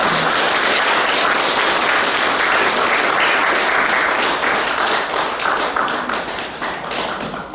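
An audience at an Advent lecture gives loud, dense applause welcoming a priest, many hands clapping close and continuously throughout with no pause.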